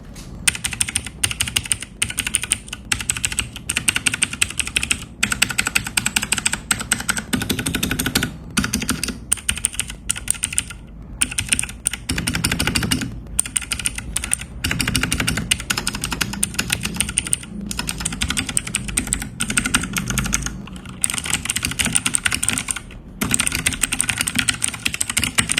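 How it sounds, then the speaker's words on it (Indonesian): Someone types steadily on an NYK Helens 63 (MKN-07) super-compact mechanical keyboard, giving a dense, continuous run of close clicky keystrokes with brief pauses, and no voice. "Dan inilah hasil mengetik menggunakan Helens 63."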